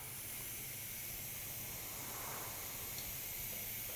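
Steady, faint airbrush hiss as paint sprays continuously during detail work on a KingSong piece, an even airy rush with no breaks.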